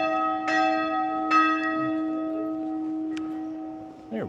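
Church bell in Tours, France tolling with a sustained ringing hum, two clear strikes early on and a fainter third later, fairly near, no talk over it.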